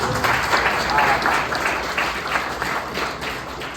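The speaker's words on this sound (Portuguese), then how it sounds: "Um aplauso mais para Vladimir." Audience applause closing a talk on synesthesia and archaeological excavation, a moderate round of clapping from a seated crowd that gradually thins, with voices faintly underneath.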